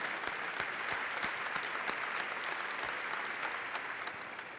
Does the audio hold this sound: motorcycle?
no